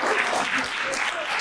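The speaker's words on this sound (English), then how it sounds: "A round of applause for both of our contestants." Steady applause from an audience for two contestants at a talk at Montclair State fills the room, an even wash of clapping that holds at the same level throughout.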